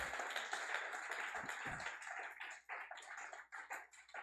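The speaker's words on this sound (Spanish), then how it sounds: "Dele fuerte el aplauso al Rey." A church congregation at an Easter Sunday service claps, faint and somewhat distant, in a rough, uneven patter of scattered hands with a few sharper taps standing out.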